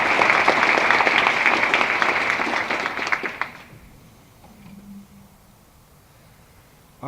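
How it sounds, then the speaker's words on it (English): A banquet audience claps in dense, loud applause for about three and a half seconds before it quickly dies away into quiet room noise. "Dr. and Mrs. Helland, would you stand and take the applause of this Augsburg family?"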